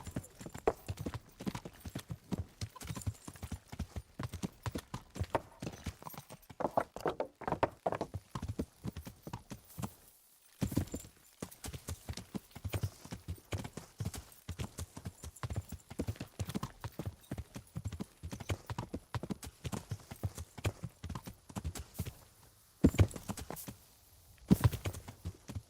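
Horse hooves clip-clop steadily over a long stretch, brisk repeated clatter on hard ground, with a brief pause midway and faint voices now and then.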